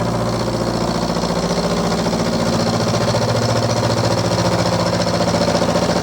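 A metal lathe takes a slow, light cut on the steam chest cover for a Stuart S50 model steam engine, running near 800 RPM. It makes a loud, steady mechanical drone with a fast, even vibration and no talking.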